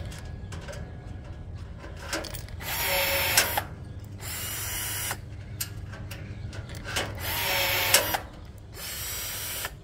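A DCPM50 cordless blind riveter sets rivets, giving two short loud whirring bursts, each ending in a sharp snap, between quieter handling noises, close up and without talk.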